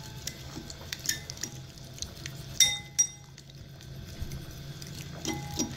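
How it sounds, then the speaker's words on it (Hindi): A fork clinks against a glass bowl while spaghetti sauce thickened with cornflour is stirred, light irregular taps and scrapes close by, with a couple of sharper clinks in the middle and quiet stretches between. "फोक की मदद से ये इजीली मिक्स हो रहा है।"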